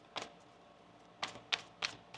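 Tarot cards being shuffled, a few short soft riffling bursts spaced irregularly, close and faint with quiet gaps between them.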